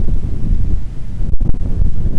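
Strong wind buffets the microphone outside a house on a remote off-grid island, a loud, constant low roar with brief gusty dropouts and no talking.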